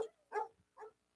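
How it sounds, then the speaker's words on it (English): A dog gives three short, quiet barks spaced evenly apart, faint and alone, played on a New Orleans radio show. "That's Blue Boy barking up a storm on this Friday"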